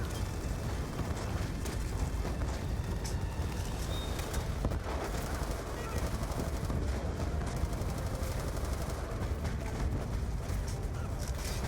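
Dense, continuous rattling gunfire from armed trucks in Call of Duty: Black Ops 2, set in Angola, with sharp cracks and booms layered throughout, loud and busy with no talking.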